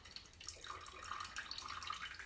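Lemon and lime juice poured into a cheesecake mixture in a home kitchen, a soft steady trickling liquid pour, close and faint, running continuously without talk.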